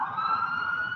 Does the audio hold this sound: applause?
no